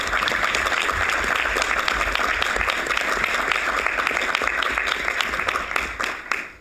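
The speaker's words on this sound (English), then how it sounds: "Please give him a round of applause." A board of trustees meeting audience gives sustained, dense applause for a university president, steady and loud throughout before tapering off at the end, with no talking over it.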